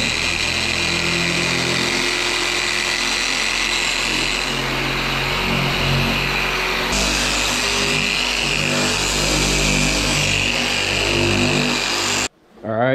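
A handheld power buffer whirs steadily while polishing faded green paint on a John Deere X500 riding mower, a loud continuous motor drone that shifts pitch partway through, then cuts out abruptly near the end.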